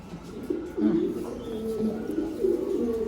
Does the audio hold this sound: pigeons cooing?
yes